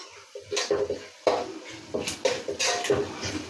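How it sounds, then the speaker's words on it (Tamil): A spoon scrapes and clinks in a pan as turmeric is stirred into a frying masala for jackfruit-seed kuzhambu, with short, close, irregular strokes and a faint sizzle underneath. "மஞ்சத்தூள் போட்டுட்டு அதையும் கிளறோம்"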